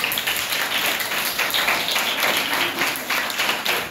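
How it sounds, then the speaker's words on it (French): A third-grade class applauds a classmate after she presents her model house project: a steady, dense patter of many small hands clapping together for about four seconds, close and fairly loud with no talk over it. "On peut applaudir pour elle."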